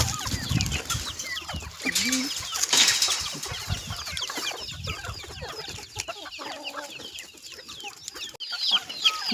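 A flock of backyard chickens clucks and chatters close by while being fed chopped coriander, with overlapping calls, scratching and occasional wing flaps.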